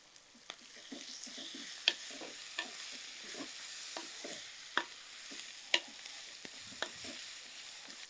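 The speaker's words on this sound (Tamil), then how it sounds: "இப்போது இந்த வெங்காயமும் இந்த தக்காளியும் வதங்கியாச்சு" Onion and tomato sautéing in a pan: a steady hiss of frying with regular spoon scrapes and light clicks every half second or so, close and fairly quiet, with no talking.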